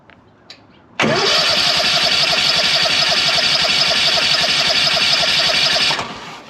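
Lawn mower engine catching after a pull start and running steadily at a loud, constant idle for about five seconds before cutting out.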